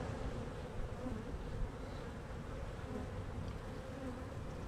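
Honey bees buzzing steadily on a hive frame during an inspection, a dense low hum of many wings close by, continuous with no voices.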